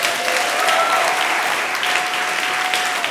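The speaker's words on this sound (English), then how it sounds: "Give yourselves a round of applause." Steady applause from a conference audience at a talk on developing an ageless brain, dense and sustained clapping throughout with a faint tone running beneath.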